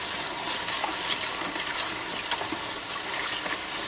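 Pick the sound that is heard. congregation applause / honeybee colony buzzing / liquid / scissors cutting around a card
liquid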